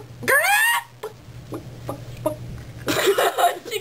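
A person imitating a chicken with loud squawking clucks in two bursts, separated by short breathy sounds and scattered chuckles, close to the microphone.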